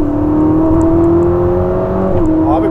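A Ferrari SF90 Stradale, a 1000-horsepower hybrid, accelerates hard with a steady rising engine tone, then a quick gear shift causes a brief dip before the pitch climbs again, loud and close.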